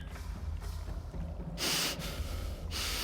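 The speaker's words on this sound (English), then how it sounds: "The ogre matron sniffs at the air, her nostrils as wide and dark as two pistol barrels." An ogre matron sniffing the air in the fantasy game Pillars of Eternity, loud nasal snorting inhalations in bursts over a low ambient background.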